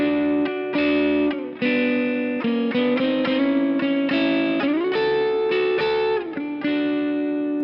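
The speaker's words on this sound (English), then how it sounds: "So if we were to try using those double stops in thirds" Electric guitar playing a short phrase of two-note double stops in thirds through distortion and effects, sustained harmonized pairs shifting chord to chord, loud and alone.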